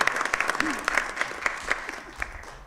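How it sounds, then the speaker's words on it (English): A board of education meeting audience claps for a student robotics team and their coach, a scattered, uneven round of hand claps with some voices mixed in, fading toward the end. "Yeah, let's give them a round of applause"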